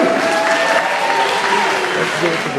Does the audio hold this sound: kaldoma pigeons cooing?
no